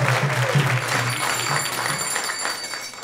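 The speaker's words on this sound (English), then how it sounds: "so let's give them a big round of applause" Applause from a temple audience after a religious talk, steady and dense throughout, with many hands clapping close and loud and no clear voices over it.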